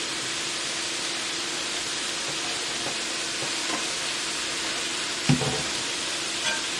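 Seasoned chicken and vegetables fry in a pan with adobo seasoning, giving a steady broad sizzle throughout and a single sharp utensil knock near the end as the mix is stirred.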